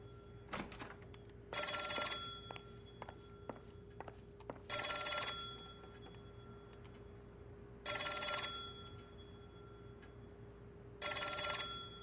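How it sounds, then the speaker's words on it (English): An old-style telephone bell in the video game L.A. Noire rings in four evenly spaced bursts inside an apartment, with faint footsteps and quiet room tone between rings. "New objective, answer the telephone."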